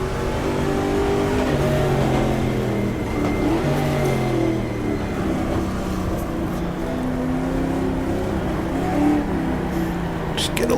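A 1960s race car engine accelerating at the 1966 Daytona 24 Hours in the GTR2 racing game, Ford versus Ferrari era, a loud, steady droning roar with rising and falling pitch, under a voice talking.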